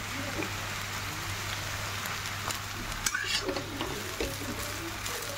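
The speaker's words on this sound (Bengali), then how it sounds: "তারপর ভালো করে ফ্রাই করি" Chow mein frying in a pan with sauce gives a steady, close hiss and sizzle like rain over a low hum, with a few light clinks partway through.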